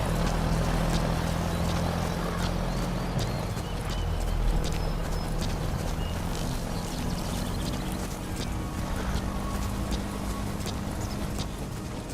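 Steady clip-clop of horse hooves walking at an even pace in Metal Gear Solid V: The Phantom Pain, over a constant low rumble of ambient game noise.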